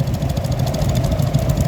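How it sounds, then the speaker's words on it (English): A petrol TVO vintage tractor engine idles at a steam rally parade, a close, loud, lumpy rhythmic chugging with rapid regular firing pulses throughout. "this one is a petrol TVO tractor"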